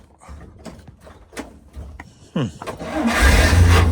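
A 1942 Dodge engine with a newly built 12-volt electrical system cranks in a few short bursts, then catches and starts, rising into a loud, steady running rumble close by.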